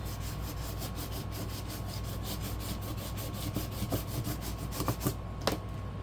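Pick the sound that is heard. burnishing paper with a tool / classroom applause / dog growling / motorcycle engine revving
burnishing paper with a tool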